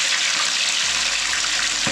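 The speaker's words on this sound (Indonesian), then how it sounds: "minyaknya meletup-letup ya teman-teman" Fish frying in hot oil, a dense steady hiss of sizzling with a few louder pops near the end, close and fairly loud with no talk.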